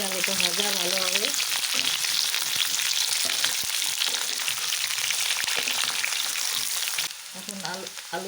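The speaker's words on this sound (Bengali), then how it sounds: "আর এখন আলুটা এর মধ্যে দিয়ে ভেজে নেব।" Potatoes fry in hot oil with cardamom and cinnamon for aloo dum, a loud, steady sizzle with occasional stirring, while a voice speaks briefly at the start and end.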